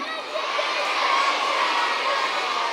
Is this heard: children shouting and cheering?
yes